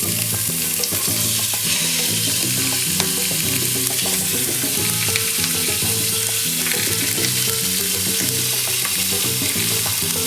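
Meat searing in about two tablespoons of olive oil for homemade couscous, a loud continuous sizzle over a steady bed of tonal background sound, with no talking.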